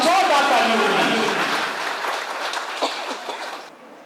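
Applause from an audience at a Dr. Bhimrao Ambedkar Jayanti celebration, a broad crowd clatter welcoming a guest to the stage, loud at first and fading over a few seconds, with a voice over a microphone at the start.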